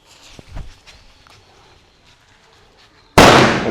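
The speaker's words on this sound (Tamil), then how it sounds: "சரி, இப்போ வடி கொளுத்த போகிறோம்." A few small pops and crackles sound faintly, then a firecracker bursts with a sudden, very loud, sharp bang near the end, at a Diwali celebration in Sri Lanka.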